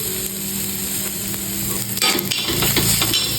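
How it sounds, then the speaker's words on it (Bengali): An egg sizzles and fries in a pan for an egg roll, with a steady crackling hiss. Sharper scraping and stirring knocks come in during the second half. "ডিমটাও আমি ভেজে নিলাম।"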